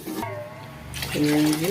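Water poured into a pot while making vegetable biryani, a steady close splashing pour that swells louder toward the end, with speech over it.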